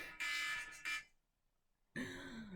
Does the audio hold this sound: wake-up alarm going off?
yes